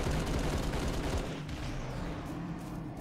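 Dense, rapid gunfire rattles in a Halo Reach Big Team Battle match on the Boneyard map, heavy at first and then thinning into lighter distant shots.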